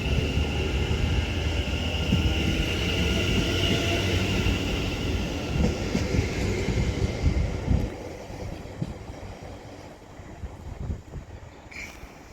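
Double-headed West Midlands Railway class 730 electric units departing the high level platforms at Lichfield Trent Valley, a loud, steady rumble of wheels and traction with faint high whine, gradually easing as the train pulls away.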